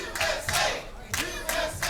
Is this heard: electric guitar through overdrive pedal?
no